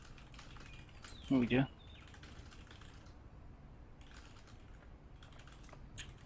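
Brief quick keystrokes on a computer keyboard during a Counter-Strike match on Cobblestone, quiet and intermittent under game sounds, with a short burst of speech partway through.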